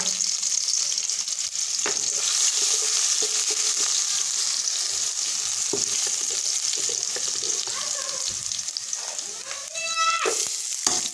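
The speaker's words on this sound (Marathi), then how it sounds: "जिरे मोहरी तडतडत आहेत" Cumin and mustard seeds crackling and sizzling in hot oil in a pan, a continuous close frying hiss with sharp pops and crackles throughout, a low moo-like sound faint in the background.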